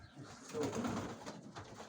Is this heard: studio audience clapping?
no